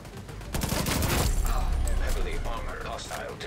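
Gunfire from a gun in Division 2, a loud rapid burst of shots up close, continuing under game noise and effects.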